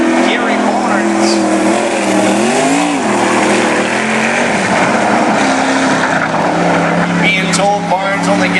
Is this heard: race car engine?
yes